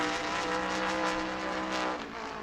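A race car at New Smyrna qualifying comes down the back straightaway, its engine a loud, sustained high-pitched drone that holds steady before easing off slightly, with no talk over it.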